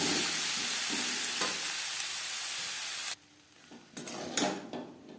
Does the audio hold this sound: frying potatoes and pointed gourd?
yes